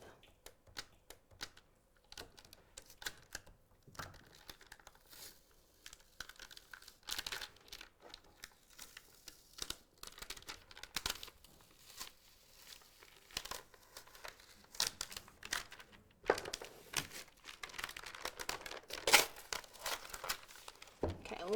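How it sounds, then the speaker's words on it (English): Transfer tape is slowly peeled away from Cricut vinyl on a custom notebook project, producing close, faint crinkling and intermittent tearing crackles in uneven bursts. "Go ahead and slowly remove that transfer tape."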